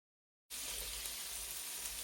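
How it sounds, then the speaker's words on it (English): Pancake batter frying in melted fat in a pan, a steady close hiss of sizzling that starts abruptly and holds evenly, with no talk. "I'm going to use that oil to cook the pancake batter"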